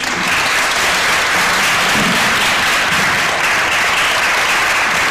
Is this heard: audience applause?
yes